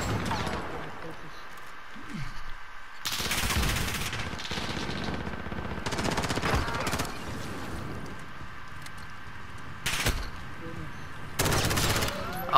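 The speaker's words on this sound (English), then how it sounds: "Why are you shooting me, bro?" Bursts of gunfire from Call of Duty Modern Warfare, several sharp volleys spread across the clip with quieter gaps between, fairly close and loud, with a voice chatting faintly underneath.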